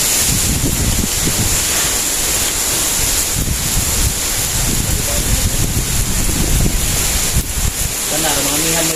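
Strong northeast monsoon wind gusts ahead of Typhoon Odette's landfall, a loud steady roar buffeting the microphone with surf-like rushing throughout, and voices talk faintly underneath.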